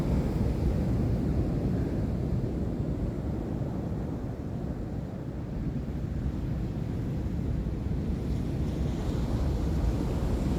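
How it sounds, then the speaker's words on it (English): Foamy ocean waves breaking on a rough beach, a loud, continuous low roar and wash heard up close and alone, mixed with wind buffeting the microphone. "Look at this foam. These foam waves."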